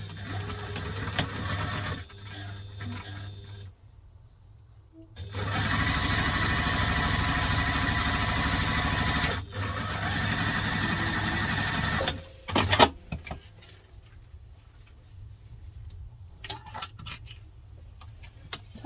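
A sewing machine stitches a crosspack bag in long, steady runs of fast mechanical whirring, broken by short pauses and ending with faint clicks and handling noises.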